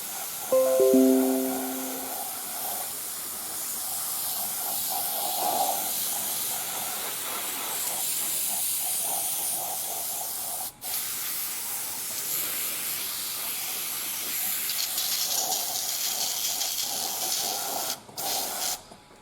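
An airbrush sprays paint onto a Takom M47 tank model in a steady, close, airy hiss that runs almost unbroken, with a few brief cuts and a short tonal clatter near the start.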